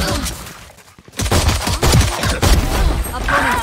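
Gunfire in the video game Valorant: after a near-silent lull, dense bursts of rapid, loud shots crackle continuously for several seconds.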